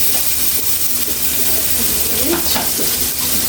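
Fish frying with onions in a pan for a Ceylon fish curry, a steady close sizzle with a few stirring scrapes, heard alone.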